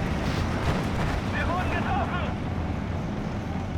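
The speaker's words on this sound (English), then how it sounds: "artillery shells just coming down on them. It's like a swarm of it, carpet bomb of artillery" Dense, continuous rumble of an artillery barrage in the Steel Division 2 war game, shells falling like carpet bombing in a World War One style assault, steady and loud throughout with faint higher crackles mid-way.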